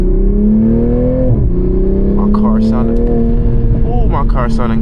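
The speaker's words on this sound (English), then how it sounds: "My car sounding good right now." A car engine drones and revs with a steady, tonal hum whose pitch dips and rises, loud and close, with a voice speaking briefly over it.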